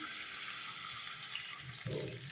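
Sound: water poured into pan of fish curry

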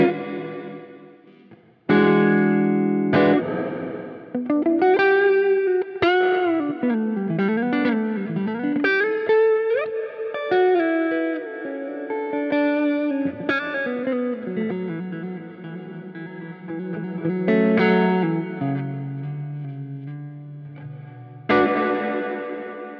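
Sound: ducking reverb effect on Line 6 DL4 MkII pedal

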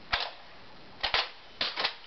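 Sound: Nerf blaster shot

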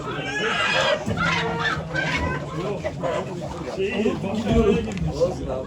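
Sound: chickens and rooster clucking at a poultry auction

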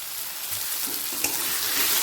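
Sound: frying onion with chili and ginger garlic paste

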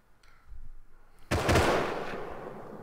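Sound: gunshots in the video game Rust

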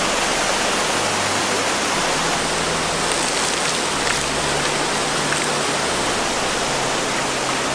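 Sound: rain falling at a mountain hot spring

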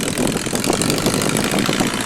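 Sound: tractor engine running

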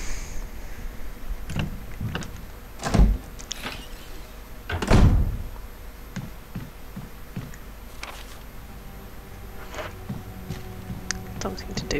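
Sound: door opening in the video game Resident Evil Remaster

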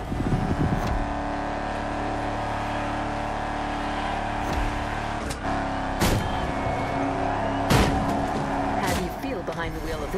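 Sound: Ford Shelby GT500 engine in video game The Crew Motorfest

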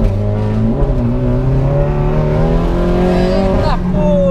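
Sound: drift cars setting off on track

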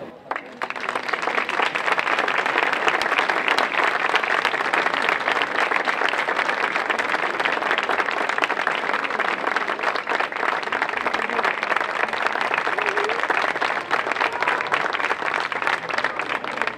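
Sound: applause for the band director

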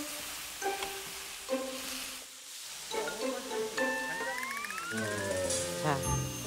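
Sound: fish cakes stir-frying in a frying pan

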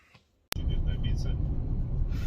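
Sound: car driving off to work

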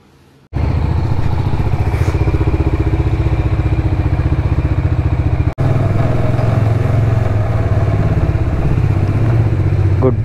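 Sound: Hero Xpulse motorcycle riding

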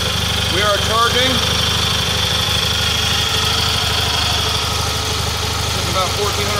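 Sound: Kohler Magnum M18 engine running on Cub Cadet 1882 tractor

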